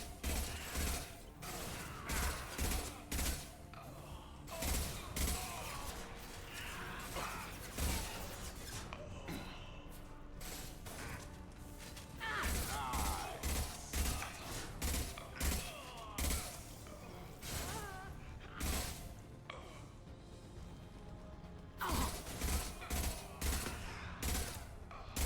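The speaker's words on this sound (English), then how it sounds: "Firing an impact gun." An impact gun fires repeatedly in a Mass Effect 2 firefight, giving rapid, loud bursts of shots with mechanical clanks between them. The shooting carries on in near-continuous volleys throughout, with short pauses.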